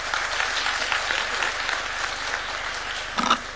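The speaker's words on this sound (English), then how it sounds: "Another round of applause for Professor Patrick." Summit audience applauding at a high-level youth engagement session, a steady wash of clapping across the room with a brief louder burst near the end.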